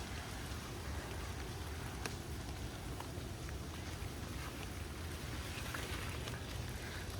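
Rain falls harder in a garden, a dense, steady hiss of drops on leaves and the ground, faint but continuous with scattered sharper taps.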